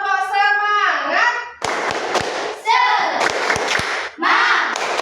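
A school class does the tepuk semangat chant, children calling out in unison between sharp bursts of group clapping and thumps, loud and close in a classroom.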